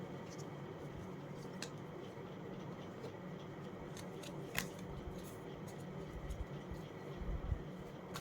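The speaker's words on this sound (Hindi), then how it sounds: "मैं फिर भी इन कार्ड्स को क्लियर करूँगी।" Tarot cards shuffled during a reading, heard as faint, crisp snapping and riffling clicks scattered over a quiet, steady background hiss.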